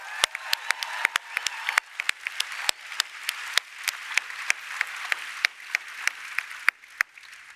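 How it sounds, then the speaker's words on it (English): Audience applauding after a performance by a choir, with a steady bed of clapping and sharp individual claps standing out, the clapping gradually thinning over several seconds. "Can we give one more round of applause for that amazing performance?"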